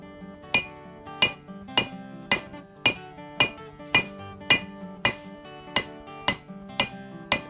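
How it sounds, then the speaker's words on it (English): A hammer strikes a steel bowie knife blade on the rounded horn of an anvil during hand forging, about fourteen sharp ringing blows in a steady, unhurried rhythm, close and clear. "Due to the round face of the horn of the anvil, it assists in sort of reducing the surface area of which you can utilize to strike the material."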